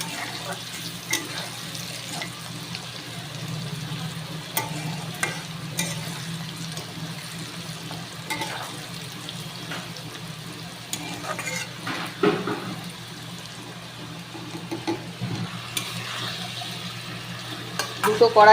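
Peas fry in a pan with a soft continuous sizzle, punctuated by intermittent scraping and clinking of a spatula against the pan over a low background hum.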